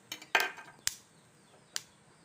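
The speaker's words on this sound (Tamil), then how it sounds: "இந்த மாரி வரப்பட்டுருக்கும் போது நம்ம இதை வேறு பாத்திரத்தில் மாற்றிக்கலாம்" Roasted green gram being tipped from the pan into another vessel, with a few sharp clinks and scrapes of metal on metal spaced out over a couple of seconds, fairly close and otherwise quiet.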